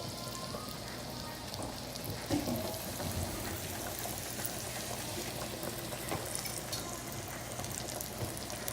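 Chicken breasts browning in olive oil in a pan on a stove over medium-high heat, giving a steady, dense sizzle and crackle that runs unbroken throughout, close and fairly loud with no talking.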